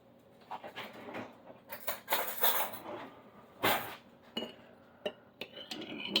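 A hard-boiled egg rattled hard inside a lidded kitchen container to crack its shell, giving a burst of irregular knocking and clattering with sharp clinks, loudest in the middle and trailing into scattered taps.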